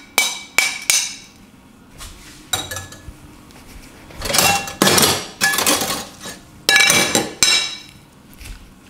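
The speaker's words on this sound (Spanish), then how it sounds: "Y ahorita lo que voy a hacer es machacarlo más." A utensil mashes tomato and onion in a bowl while eggplant is added: a run of sharp clinks and knocks against the dish, irregular and close, sometimes paired and sometimes in quick bursts, with no talking.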